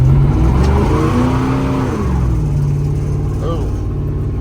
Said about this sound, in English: We'll probably peel the tire right here.